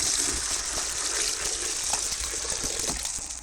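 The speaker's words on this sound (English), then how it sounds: "Filled the kettle with water" Water gushes and splashes steadily into a kettle, a continuous pouring rush with faint clinks, staged as a sound effect in a full-cast audio drama of The Three Little Pigs.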